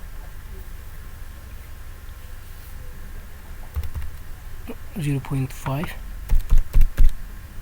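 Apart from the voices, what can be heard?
typing values on a computer keyboard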